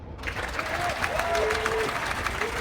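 A crowd applauds veterans of past conflicts at a morning ceremony, with steady dense clapping throughout and a few voices calling out over it.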